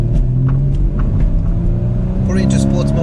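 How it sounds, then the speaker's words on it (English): A Porsche Cayman 981 with its 2.7-litre engine revs under steady, loud rumbling road noise from inside the car, with brief higher whines near the end. "Now the car is quite light, and it's revving."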